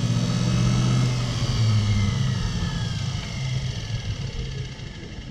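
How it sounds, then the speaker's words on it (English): A backhoe starter motor spins on its own as a motor, giving a steady, fairly loud mechanical whir with low tonal hum that holds for several seconds and eases slightly toward the end. "it's operating as a motor, although it doesn't have the torque I expected for a starter motor"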